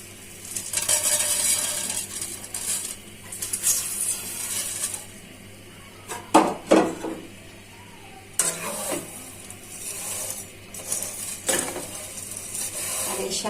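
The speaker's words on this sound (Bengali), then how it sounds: "এর মধ্যে সেমাইগুলো অল্প আঁচে ভেজে নিই।" Vermicelli fries gently in ghee in a pan over low heat, a soft continuous sizzle broken by several sharp bursts of stirring and spatula scrapes against the metal, close and fairly quiet with no speech.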